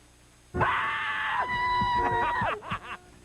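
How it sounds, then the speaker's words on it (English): Crowd of fans screaming and cheering in a high school parking lot at a state football championship homecoming, a loud sustained shrill burst of voices that breaks into shorter shouts. "Cheering, screaming, and car-honking fans crowded the Warren G. Harding High School parking lot tonight"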